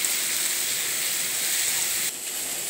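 Chickpeas frying in a pan for a vegetarian banana-flower ghonto, a steady loud hiss and sizzle that holds evenly, then drops slightly near the end.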